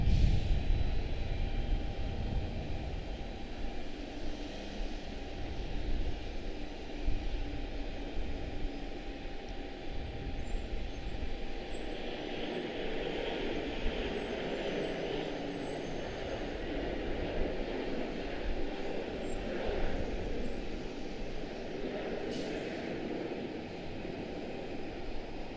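A CRJ-900 regional jet operated by PSA departing Charlotte Douglas for Allentown, a steady broadband engine roar at a distance that holds loud and slowly shifts as the aircraft rolls and climbs away.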